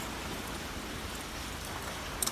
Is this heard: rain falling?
yes